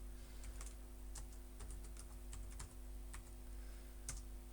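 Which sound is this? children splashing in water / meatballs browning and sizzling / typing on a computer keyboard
typing on a computer keyboard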